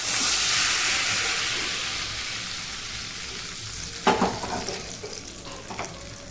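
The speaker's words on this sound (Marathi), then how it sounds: "ही जी फोडणी आहे मस्त अशी तडतडली" Tempering crackles and splutters in hot oil for a peanut chutney, a steady sizzle with a burst of sharp pops midway that trails off into scattered crackling.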